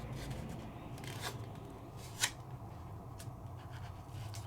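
Scissors snip through scored paper card, a few faint short cuts with one sharper snip near the middle, close and quiet over a steady low background hum.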